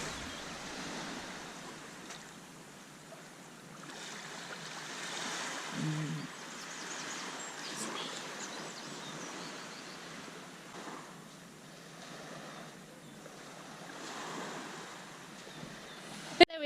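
Waves washing into a cove on the Brittany coast, a soft, rolling surf with gentle swells and a faint wind-like rush, distant and continuous.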